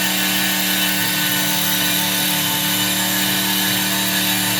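Small DC motor at 24 volts spinning an AC generator through a 1:1 pulley and rubber band, a loud steady whirring drone with constant tonal hum, unbroken throughout.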